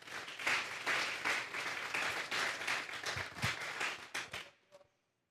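A church congregation claps together in a strong burst of applause that swells, then quickly tapers off and stops into near silence.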